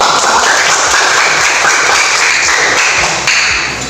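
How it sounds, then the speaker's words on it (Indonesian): A school class claps in a loud, close flurry of overlapping hand strikes with some thumping, sustained throughout before easing slightly at the end. "Tepuk tangan."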